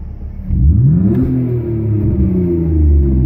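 A BMW E46 that has been running sluggish and losing power revs up nearby, its engine rising in pitch, then settling into a loud, steady drone with a slight wavering, with no voices.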